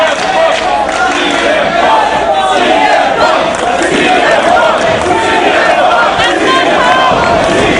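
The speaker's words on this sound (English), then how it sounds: "The crowd here in New Jersey showing their support for CM Punk." A large wrestling crowd in New Jersey roars in support of CM Punk at a Ring of Honor show, a loud, dense and continuous wash of cheering and chanting voices that fills the whole stretch.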